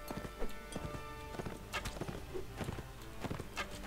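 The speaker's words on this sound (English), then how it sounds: "I suppose I'll speed up my horse." Galloping horse hooves from the Mount & Blade Warband video game pound out a rapid, continuous clatter at moderate volume, alongside busy game ambience.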